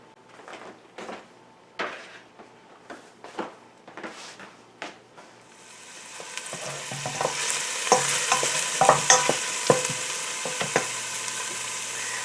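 Chopped onion cooking in olive oil in a pot: a few knocks and clatters at first, then a sudden rising sizzle with stirring scrapes that continues loud and close to the end.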